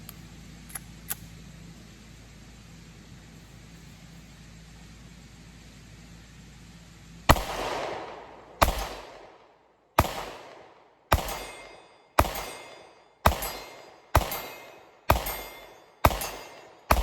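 A Sig P365 AXG Legion pistol fires ten shots at a target 44 yards away, sharp loud cracks with short decays. After a quiet stretch they come about once per second in a steady series.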